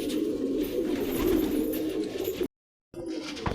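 Pigeons coo in a low, throaty, continuous murmur, several birds at close range. The sound cuts out for a split second near the end and then resumes.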